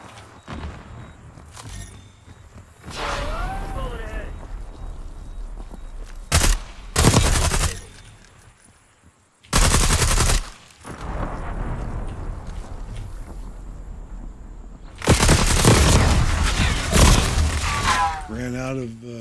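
Video game gunfire comes in long sustained bursts and heavy blasts, loud and dense, broken by short pauses, while someone talks over the action.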